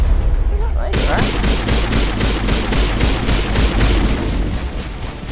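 Rapid automatic gunfire in a shooter video game, a fast regular burst of sharp shots, loud and close, running steadily for several seconds after a brief quiet start.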